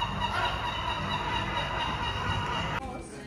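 Seagulls in Venice being fed fish, a dense noisy flock of squawks and calls close by, mixed with busy crowd and outdoor bustle that drops off abruptly near the end.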